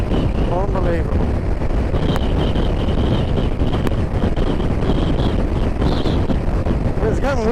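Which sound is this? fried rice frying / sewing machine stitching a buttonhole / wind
wind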